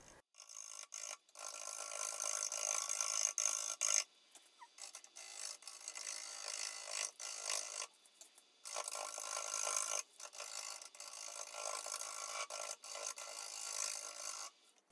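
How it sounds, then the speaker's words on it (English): A scraper tool cuts an apple wood bowl spinning on a woodturning lathe, a steady coarse rasping that runs in long passes broken by brief pauses, close and fairly quiet with no talk. "I'm just scraping, trying to get the bulk of the material out so that I can get it round"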